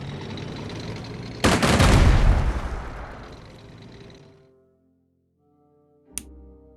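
Gunfire and artillery from the World War II strategy game Strategic Mind: Blitzkrieg, set in the battle of Poland: a loud burst of blasts that rumbles and fades over several seconds, then silence and one short, sharp shot.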